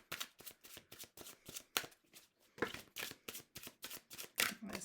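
Tarot cards riffle-shuffled by hand in a quick, steady run of crisp, close flutters, with a brief pause partway before the shuffling resumes.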